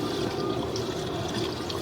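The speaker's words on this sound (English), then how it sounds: "You can see we do have the water running." Water runs through an area drain pipe beside a pool, a steady close gurgling rush of liquid with no pauses and no talking.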